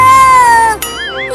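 A loud, close cat meow, a long drawn-out cry that ends in a wavering, warbling tail.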